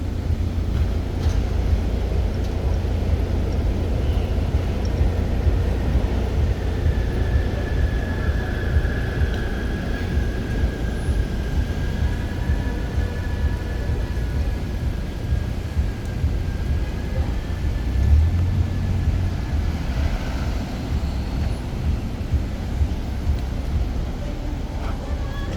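Rush-hour vehicle traffic on Varick Street in New York City makes a continuous, loud low rumble of engines and tires close by, with a faint engine whine drifting through the steady roar.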